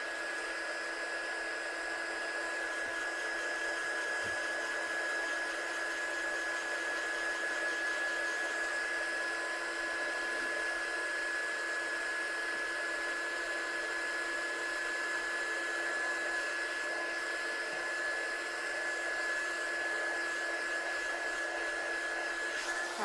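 A hair dryer runs steadily and fairly loud to dry watercolour paint on a handmade card, its even whirring drone holding a constant high whine with no pauses and no talking.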